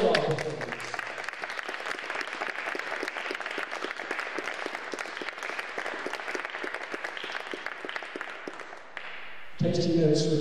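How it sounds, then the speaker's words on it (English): Sustained applause from a concert audience for the performers at a Tasting Notes music event, dense and steady for about nine seconds before fading out, with a voice starting to speak at the end. "But another round of applause, ladies and gentlemen, to all our performers."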